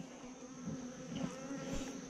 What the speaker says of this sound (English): there'll just be a ton of bees just in there